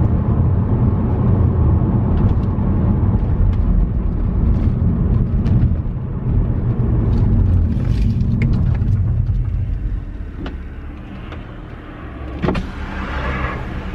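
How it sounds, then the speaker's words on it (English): A BMW 130i straight-six engine and exhaust drone loudly as a steady low rumble inside the car, easing off in volume partway through with a brief rise near the end. "that straight six as well, that sounds so, so good"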